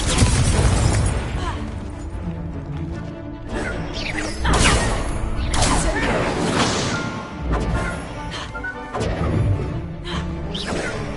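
Blasting-spell explosions from the Confringo curse in Hogwarts Legacy, repeated loud booming blasts and crashes with whooshing spell sounds over busy battle noise, with voices heard between them.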